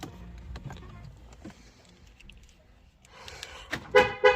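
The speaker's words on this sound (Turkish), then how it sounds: "Kilitlemede korna bildirimi hemen şöyle" A Ford's horn gives two short chirps as the car locks, near the end, preceded by quieter clicks and shuffling, with an electronic tone accompanying the honks.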